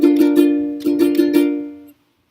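Picked ukulele chord from a song, with repeated plucked strums ringing over a sustained tone, played close and clear, then fading into silence.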